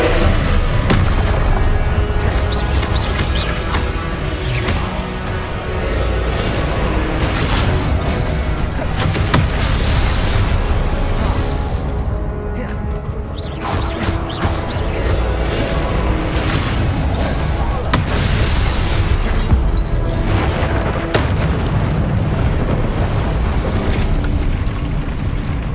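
A Confringo fire spell in the video game Hogwarts Legacy, loud booming blasts rumbling continuously through a thick, roaring mix of combat sound that stays heavy for the whole stretch.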